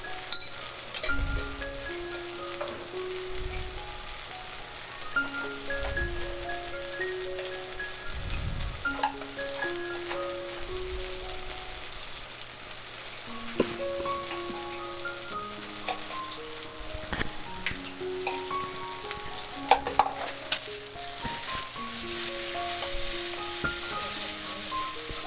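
Spice masala for chhanar dalna, ground coriander and chilli powder, frying in a pan, a steady close sizzle and crackle running throughout while music plays over it.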